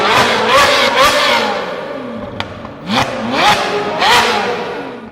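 Ferrari 458 Italian V8 engine revving repeatedly, a loud high-pitched screaming wail rising and falling in quick sharp bursts, close up, with faint background noise and no speech.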